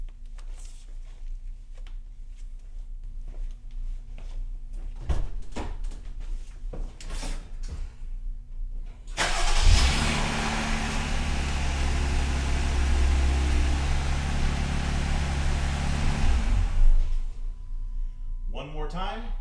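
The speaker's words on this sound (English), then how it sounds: "We hope that this does the best at recording the sound of a cold start with the stock exhaust." A Jeep Gladiator with stock exhaust cold-starts after a few quiet clicks and knocks, cranking briefly then settling into a loud, steady low idle rumble for several seconds before cutting off, heard close up.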